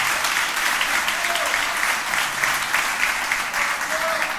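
Church congregation applauding during a Sunday morning service, a steady dense wash of many hands clapping throughout, with a faint tone briefly rising above it.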